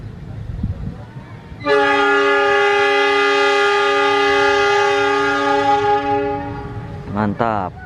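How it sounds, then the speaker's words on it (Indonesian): The Argo Wilis passenger train sounds a long, loud, steady horn blast as it departs Cipendei station, preceded by low rumbling and followed by a short second honk. "kereta api Argo Wilis diberangkatkan dari stasiun Cipendei"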